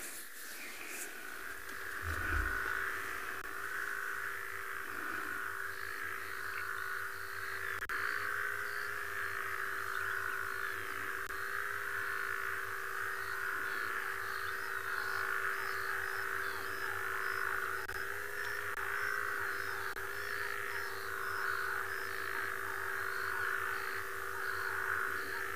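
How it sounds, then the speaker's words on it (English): Frogs call in the wild at sunrise, a continuous dense chorus of croaking and trilling at moderate distance, with faint repeated bird notes over it. "We have sounds of frogs also, if you'd like to have 5 seconds to listen to them."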